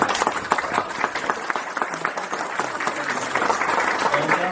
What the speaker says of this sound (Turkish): çok değerli bir alkış bekleriz